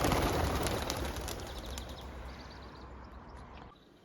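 Racing pigeons released from an open loft, a flurry of wingbeats and soft cooing close by that fades as the birds move off, with no talking.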